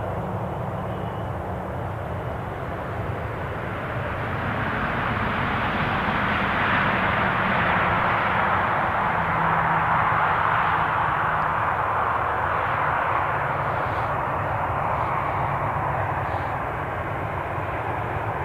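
A Ryanair airliner departing Newcastle International Airport, a broad jet roar that swells to a peak midway and then slowly eases as it climbs away, heard at a distance with no voices.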